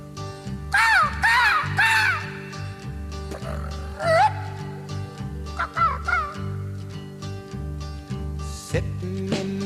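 A man imitates a seagull with repeated squawking cries over a steady musical backing, the calls sounding more like a crow's caw.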